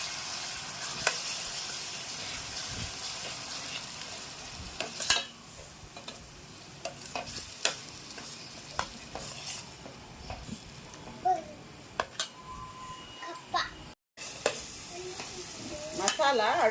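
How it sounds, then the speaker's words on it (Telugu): Meal maker tomato curry is stirred and fried in a pan, giving a low, continuous sizzle with scraping stir strokes throughout, while faint children's voices sound in the background. "పచ్చి వాసన పోయేంత వరకు బాగా ఫ్రై చేసుకోవాలి"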